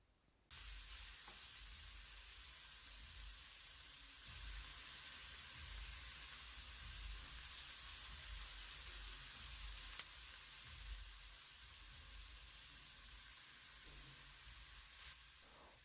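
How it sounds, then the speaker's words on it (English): Onions sizzling steadily in a hot pan, cooked only lightly rather than browned, a continuous dense hiss that holds at a constant level throughout with no voices. "So we're going to cook through the onions, but we don't have to like make it golden brown."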